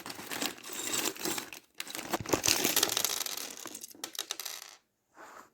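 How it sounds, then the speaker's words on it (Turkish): Crisp crinkling and snipping of paper cut with scissors, a busy stretch of cutting and rustling that pauses briefly, then a final short snip. "şimdi kesiyoruz makasla"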